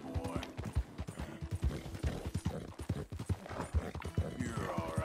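Horse hooves clip-clop in Red Dead Redemption 2, a rhythmic series of close, moderately loud hoof strikes with faint background game sounds and no talk.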